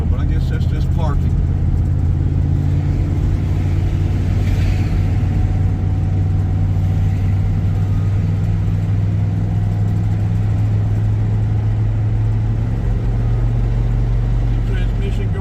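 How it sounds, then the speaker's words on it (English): An automatic transmission struggling to shift keeps a car engine revving at a steady, droning pitch throughout, a continuous mid-range hum with road rumble on a backroad drive in Jackson County, Georgia. "The transmission going to shift?"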